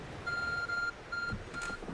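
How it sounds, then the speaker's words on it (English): Short electronic tone bursts from the Arceus Phone ringing in Pokemon Legends Arceus, two clear beeps followed by a fainter third, quiet and alone. "Oh, Arceus' phone is ringing."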